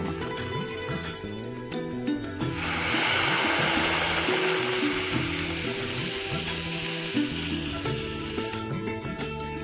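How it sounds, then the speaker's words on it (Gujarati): Buttermilk sizzles as it hits a hot tempering in a pan and is stirred constantly while making vagharelo lasaniyo rotlo. A hissing fry rises under prominent background music. "છાશ નાખ્યા પછી એને સતત હલાવવાનું"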